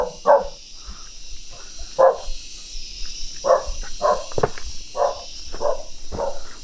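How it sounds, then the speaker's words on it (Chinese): A dog tied up beside an abandoned Ming dynasty courtyard barks repeatedly, about eight loud, close, sharp barks spaced irregularly over a faint steady hiss of insects, with no talk. "就這隻狗汪汪在叫"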